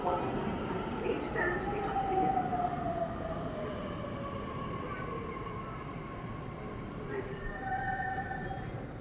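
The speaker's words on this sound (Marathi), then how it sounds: "ही ट्रेन आलेली आहे" An underground Pune metro train pulls in with a steady rumbling roar and drawn-out, whining brake tones sliding downward, loud and close.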